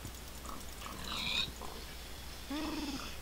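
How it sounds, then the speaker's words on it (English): Pigs grunt and oink in the game Minecraft, a few short nasal squeals and grunts scattered over about three seconds, moderately quiet over a steady background hiss, with no talking. "they just sound like normal pigs"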